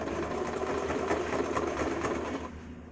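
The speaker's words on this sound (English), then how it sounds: "And I have my sewing machine put on the sew setting." Sewing machine on its sew setting stitching a fabric face mask, a fast steady mechanical whirring hum close up that slows and softens near the end, with no voices.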